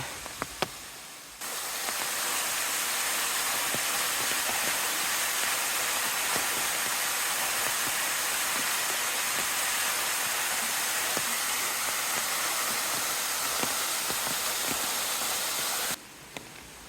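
Waterfall beside a mountain temple in Gifu, Japan: a steady, dense broadband rush of falling water runs continuously for most of the span, loud and close, with faint clicks over it and no talk.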